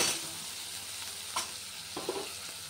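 Tomato and onion fry in a pan with a soft continuous sizzle, low and steady, broken by a few faint stirring scrapes and clinks near the end; no voices.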